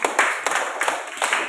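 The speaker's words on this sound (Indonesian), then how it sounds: "tepuk tangan untuk kita dulu" Students in a junior high classroom clap their hands together, a rhythmic run of sharp claps in quick repeated bursts, moderately close and without talk.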